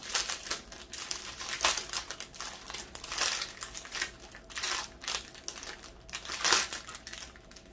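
A plastic bag of diamond painting drills being opened and handled, producing close, repeated crinkling and rustling bursts in an irregular rhythm.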